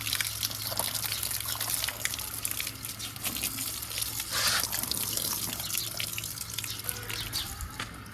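Water from a motor pump pours and splashes steadily for several seconds at close range, with a constant low hum from the running motor underneath.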